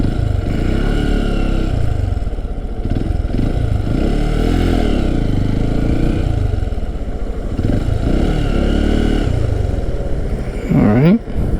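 Motorcycle engine pulling away from a stop sign after shifting into first gear, a loud, steady close-up drone with rising revs and wind rumble, someone talking over it.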